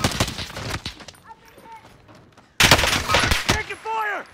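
Rapid gunfire in Call of Duty Warzone rattles off in bursts, loud and close, with a quieter stretch in the middle, while a player talks over the shots.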